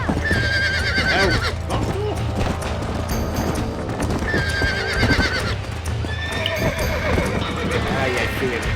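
Horse neighing and clip-clopping hooves in the video game Red Dead Redemption, with a couple of whinnies over steady, close trotting hoofbeats and a dense game soundscape.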